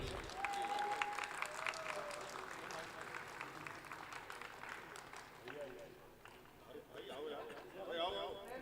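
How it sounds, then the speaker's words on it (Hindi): Audience applause at a mushaira and kavi sammelan during a ribbon-cutting, steady crowd clapping heard fairly faint in a reverberant hall, with voices and an announcer talking over it throughout. "आप लोग जोरदार तालियां बजाइए"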